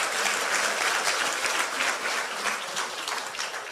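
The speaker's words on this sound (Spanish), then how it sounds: "Ahora denle un fuerte aplauso al Rey de Reyes y Señor de Señores." A church congregation claps together in steady, dense applause throughout, filling the room evenly without any talking.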